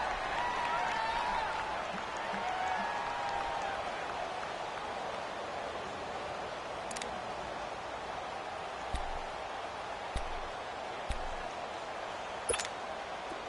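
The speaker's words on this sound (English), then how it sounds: "the crowd getting into it as we come up on a big 3rd down" Stadium crowd in an American football video game on PS4 roars steadily through a fourth-quarter buildup to a big third down, a dense continuous wash of cheering with a few sharp ticks and claps poking out near the end.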